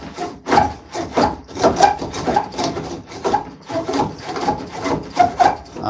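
A tool catching and scraping wood on a spring pole lathe, a series of rhythmic rasping strokes with short gaps between them, close and fairly loud, no talk.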